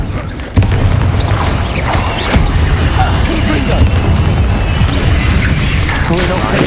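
A Confringo blasting spell explodes in Hogwarts Legacy as a sudden heavy boom, followed by a steady, dense roar of rumbling noise that holds at high loudness, with a voice talking underneath.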